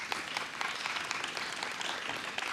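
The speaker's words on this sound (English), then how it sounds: "Give Eli a big clap as he comes up." Audience applause for a volunteer coming up on stage at a church campus service, a steady wash of many hands clapping at moderate, even loudness throughout, with no voices over it.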